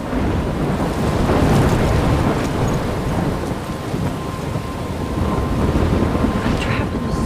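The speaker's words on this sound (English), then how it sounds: "I'm trapped in a storm?" A violent storm in the video game Life is Strange, with heavy rain and wind roaring continuously and loud rumbles of thunder rolling through the dense noise.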